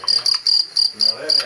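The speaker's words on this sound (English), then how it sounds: "Cricket." A cricket chirp plays from a baby's app, with rapid bright chirp bursts repeating at a steady rhythm, loud and close, with no voices.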